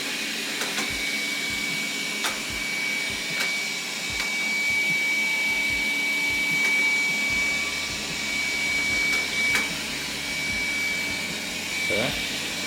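A Dreame L10 Pro robot vacuum runs with a steady whirring hum and a high whine, punctuated by periodic soft bumps and clicks as it moves; a voice is faintly present.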